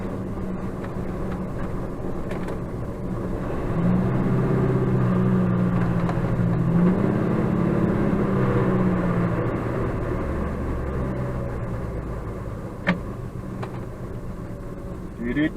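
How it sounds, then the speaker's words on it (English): A truck engine drones steadily in traffic in a driving game, a low continuous rumble that swells for several seconds, with a faint click near the end. "I'm driving the truck."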